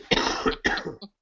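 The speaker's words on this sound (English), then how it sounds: "4 weeks later, and we still have a massive cough." A massive, lingering chest cough, heard as two loud, harsh coughing bursts close to the microphone followed by a short, softer third cough, with no talking.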